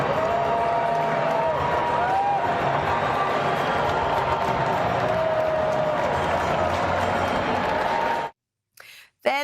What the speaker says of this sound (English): here is the president arriving at the men's final and being greeted with loud cheers